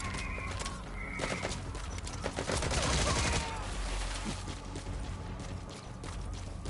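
Rapid gunfire in Metal Gear Solid V: The Phantom Pain, a dense clattering burst of shots with louder blasts mixed in, continuous and fairly close throughout.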